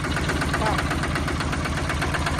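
A tractor engine chugs steadily while plowing a field, a close, rhythmic knocking drone that holds an even, pulsing beat throughout.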